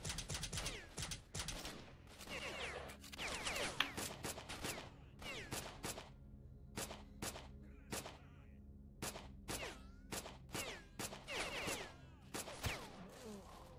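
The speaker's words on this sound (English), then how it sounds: "those people are shooting better than me" Bursts of gunfire from enemies in the shooter game S.T.A.L.K.E.R. crack in rapid volleys, some close and loud and others farther off, the firing stopping and starting in ragged automatic rattles and single shots.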